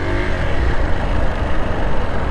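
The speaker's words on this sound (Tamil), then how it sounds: "ஓ, லாரி நகர்ந்துருச்சா?" A lorry's diesel engine rumbles steadily at a petrol station as the truck pulls away, a dense low, continuous drone filling the clip with no talk over it.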